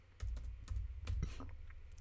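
Quick, light clicks of a computer keyboard tap out a short burst of keystrokes in an irregular rhythm, close and fairly quiet, with no talking over them.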